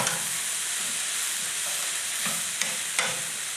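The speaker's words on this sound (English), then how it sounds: "There's nothing better than onions and bacon frying up together." Onions and bacon frying together in a pan, a steady close sizzle and hiss with light stirring scrapes and a couple of sharp clicks near the end.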